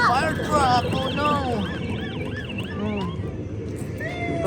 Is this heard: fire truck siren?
yes